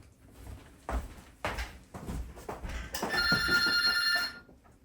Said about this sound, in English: Oh, look, it sounds like we're getting a phone call.